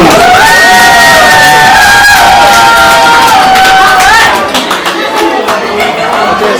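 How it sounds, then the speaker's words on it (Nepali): Audience at a community programme clapping and cheering loudly: dense applause mixed with whoops and whistles, continuous and close, easing slightly near the end. "सबैले ताली बजाइदिनु होला"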